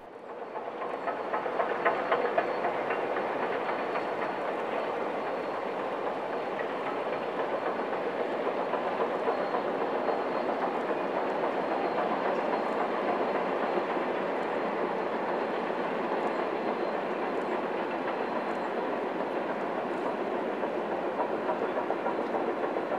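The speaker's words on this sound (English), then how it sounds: "Here our train runs along the beautiful Snake River." Union Pacific 844 steam locomotive hauling a train along the Snake River, a steady, continuous rolling rumble with faint rhythmic rail clatter and no voices, holding even in loudness throughout.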